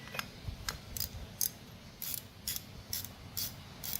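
A 3/8 inch socket turning out the carburetor nozzle on an MF 135 tractor, giving a string of about eight sharp ratcheting clicks at a steady rhythm, close and fairly quiet with no talking.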